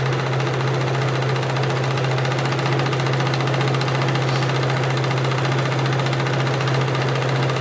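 An older sewing machine stitches a long dress with puffed sleeves, its motor giving a steady, close, unbroken mechanical hum with a low drone for the whole stretch.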